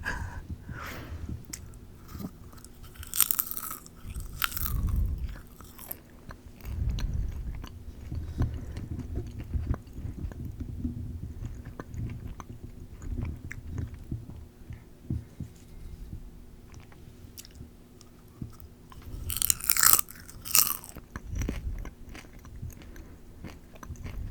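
Popcorn is crunched and chewed with an open mouth close to the microphone in an ASMR snack session. Loud crisp bites come in bursts, with wet chewing between them and a low hum underneath.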